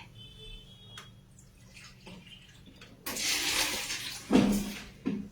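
Room-temperature tap water pours into a bowl in a home kitchen while preparing banana and lotus stem chips, a broadband rushing stream starting after three seconds of quiet, loud and close, with splashy bursts near the end.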